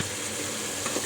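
Mutton sautéing with spices, salt and onion in a pan gives a steady, close, broadband sizzle with faint stirring scrapes, with no voices.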